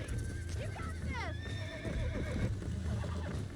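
A horse in the video game Red Dead Redemption lets out sharp, quavering neighs and whinnies over game music, with hooves clip-clopping and a voice speaking nearby.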